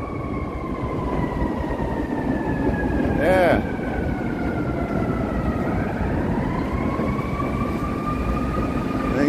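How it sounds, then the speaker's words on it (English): A Chicago L Brown Line elevated train rumbles loudly and steadily over Van Buren Street near State Street with city street noise around it, while a voice speaks briefly. "Look at the L. There's a brown line going over the"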